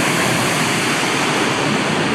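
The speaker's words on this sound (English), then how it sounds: "What a waterfall that is!" A large waterfall on a volcanic lava field, heard as a loud, dense, continuous roar of rushing water that stays even throughout, with no talking.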